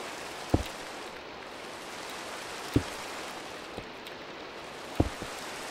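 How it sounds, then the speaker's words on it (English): Steady hiss of rain falling nonstop in a Minecraft world, a continuous even wash with a few sharp drop-like ticks spaced seconds apart. "This has been raining like nonstop for a while."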